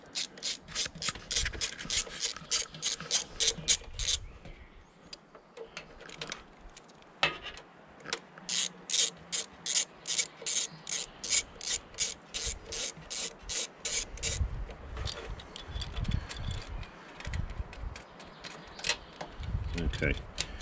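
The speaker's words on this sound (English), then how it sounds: "Crack the two bolts, holding the tank down." Ratchet with an 8mm socket and extension loosening the bolts holding down the fuel tank of a Honda VFR800 VTEC, with rapid rhythmic clicking bursts repeated many times, close and clear, between brief pauses and some handling noise.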